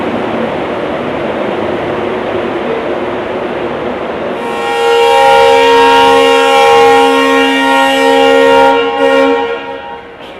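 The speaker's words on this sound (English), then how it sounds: "Janshadabdi Express departing towards Bengaluru." The Jan Shatabdi Express pulls out of Hubballi toward Bengaluru: a low rolling rumble, then a loud, sustained train horn blares for several seconds before fading.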